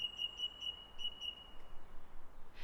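A song thrush singing, with short, clear, high whistled phrases repeated in a quick series, then a brief pause and another pair of notes, faint over a quiet hiss.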